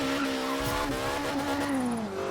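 A Ford Escort RS1600 in Forza Horizon 3 howls under steady load, a loud rising-and-falling engine tone with tire noise layered over it, continuous and close for the whole stretch, with no talking.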